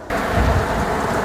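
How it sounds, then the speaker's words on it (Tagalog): Heavy rain pours over a small home garden in South Korea, a dense, loud roar of downpour with low rumbling underneath, continuous and without speech. "Super ang lakas ng ulan."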